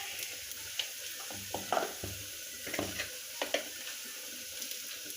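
A spoon stirs turmeric into masala frying in a pan, producing a continuous sizzle with scattered scraping and tapping strokes against the pan, close and clear with no voices.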